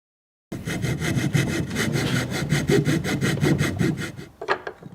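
A hand saw cutting wood for a polychrome sculpture in steady back-and-forth strokes, close and loud, starting after a brief silence and trailing off at the end.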